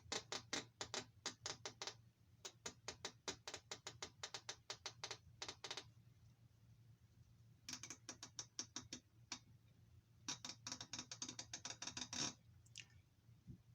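A Mac hand ratchet clicks in fast, even bursts of sharp ticks, close up and crisp, with short pauses between runs over a low steady hum.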